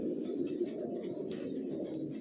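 Johnson-line racing pigeons cooing in a loft, a steady low murmur of overlapping coos with faint chirps, close and continuous without any talk.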